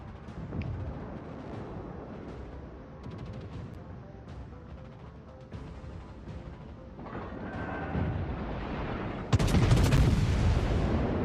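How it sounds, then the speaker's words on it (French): Anti-aircraft guns fire from a French battleship in a naval video game, with rapid booming bursts and rolling gunfire layered continuously and building to a louder volley near the end. "défense AA qui tire"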